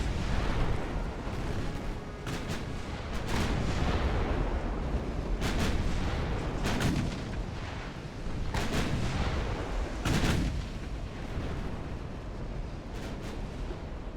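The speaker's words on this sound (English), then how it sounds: "your main guns need to be shooting that thing" Warship main guns fire in the naval game Ultimate Admiral: Dreadnoughts, sounding as a series of heavy booming salvos with sharp cracks at irregular intervals, loud and close over a constant rumbling battle backdrop.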